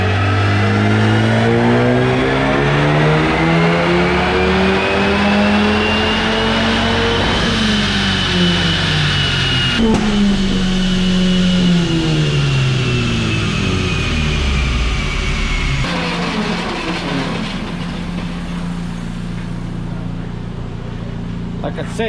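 A Honda Civic revs hard on a dyno, its engine note climbing and dropping through repeated loud pulls, close and continuous, with voices talking over it.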